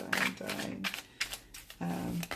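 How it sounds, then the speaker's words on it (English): A Sacred Bridges tarot card deck is shuffled overhand, making soft, papery rustling bursts in quick, uneven succession, close and fairly quiet. "It shuffles beautifully overhand, like so."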